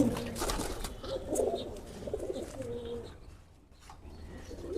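Close, low cooing from a racing pigeon rises and falls in a steady run of throaty calls, fading briefly near the end before resuming.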